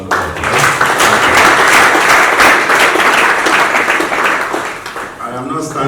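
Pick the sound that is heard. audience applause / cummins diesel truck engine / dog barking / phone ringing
audience applause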